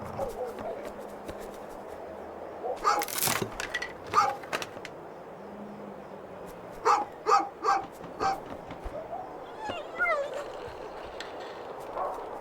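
Small dog barks and yips in the video game A Juggler's Tale, a cluster of sharp barks near the start and another rhythmic run of four or five barks midway, over soft game ambience with narration-like speech cues.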